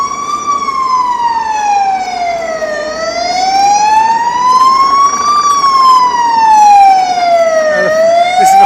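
Loud fire engine siren on a Barcelona street, wailing steadily up and down in long slow sweeps as the truck passes close by, with no talk.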